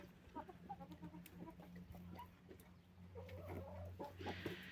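Several chickens cluck softly and intermittently nearby, with short murmuring calls over a quiet low hum.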